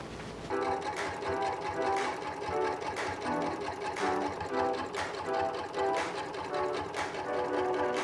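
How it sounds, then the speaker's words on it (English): A sewing machine stitches the side seam of a patchwork tiered skirt, running in one continuous close, steady whir with a regular rhythmic chatter. "We're going to sew down the side seam, around the pocket, and down the side seam"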